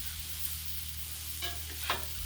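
A spatula scrapes leftover pork juice bits across a hot Blackstone griddle over a low steady sizzle, with two short sharp scraping strokes near the end.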